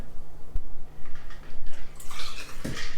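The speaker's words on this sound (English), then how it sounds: "All right, now it's time to pour." Rosemary and fig sour cocktail poured from a shaker into a glass: a short liquid splash and trickle builds over the final second, with a brief clink just before it.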